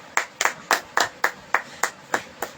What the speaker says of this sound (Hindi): सब जन तालियों के साथ।